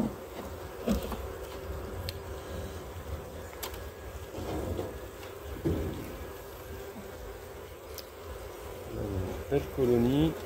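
An opened honeybee colony at a breeding apiary in spring, a dense steady buzz of many bees close by, with faint handling knocks and brief wavering tones over the drone, and no clear speech.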